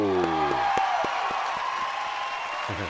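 A studio audience claps and cheers on a television talk show, a steady wash of applause with scattered whoops, while a voice rises over it and other sounds cut in.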